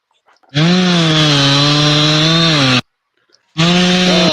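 A chainsaw engine roars loud and close in two sustained bursts, the first about two seconds long, then a short gap of silence before it revs up again, steady and harmonic-rich.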